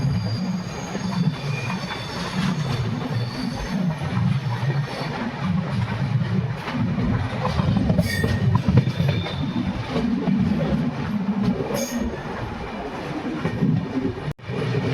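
The Bhagat Ki Kothi Visakhapatnam Express running toward a platform near Baran station, heard from on board as a loud, constant rumble of wheels on rail with occasional squeals and clacks.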